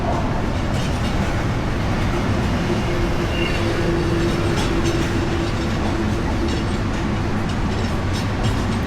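Steady rumble and rattle of a train rolling along the rails as it enters Ibrahimabad station at night, with a faint squeal of wheels partway through, no talking.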